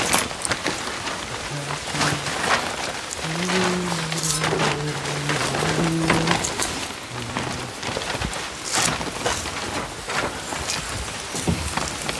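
Steady rain falls through a forest in the rainy season, a dense, even patter of drops continuing throughout with faint low tones in the background.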